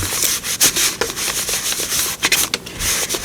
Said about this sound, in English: I have a dried up wipe here that I'm going to use to just kind of rub this